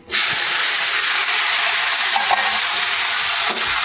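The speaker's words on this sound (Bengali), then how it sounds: "এবারে আমরা গরম তেলে ছেড়ে দেবো একে একে সব সবজিগুলোকে" Drumstick and potato pieces for sukto hit hot oil in a pan, bursting into a loud, continuous sizzling hiss that starts abruptly and holds steady, with faint crackles throughout.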